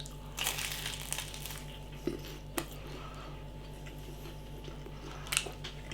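Bites into a flaky Greggs corned beef bake, giving soft crunchy crushing and crinkling of pastry with a few sharp crackles, close and fairly quiet, no talking.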